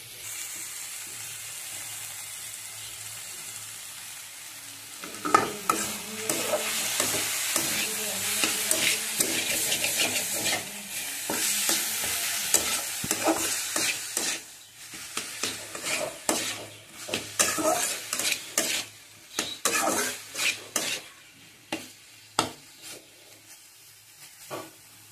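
Barma greens stir-fried with sugar in a pan: a steady sizzle opens, then repeated scraping stirs and light utensil clatter come through close up, fading into intermittent scrapes toward the end, with no talking.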